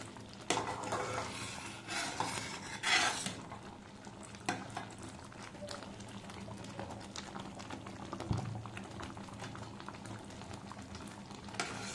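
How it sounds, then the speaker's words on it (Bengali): Homemade tomato sauce simmers in a pan with a soft continuous bubbling sizzle while a utensil stirs and scrapes it, with occasional louder clinks near the start, close up and without talking. "এই যে টমেটো সসটা জাল দিচ্ছি"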